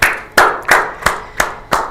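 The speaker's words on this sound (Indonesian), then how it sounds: "tepuk tangan dulu." Six sharp hand claps at an even, unhurried pace, each crisp and close, with short quiet gaps between them.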